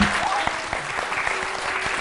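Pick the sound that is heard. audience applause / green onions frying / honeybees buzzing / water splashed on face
audience applause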